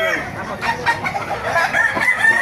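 Several sweater-breed gamefowl roosters crowing and clucking at a busy Bocaue market, overlapping calls repeating close by against steady background bustle.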